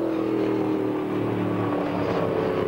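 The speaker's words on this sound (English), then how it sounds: "Number 47 Mustang, what a marvellous sound that car produces." A Ford Mustang GT race car, number 47, running in the 1997 British GT Championship at Silverstone GP: a deep, steady engine drone with strong low harmonics, held at near-constant revs, continuous and moderately close.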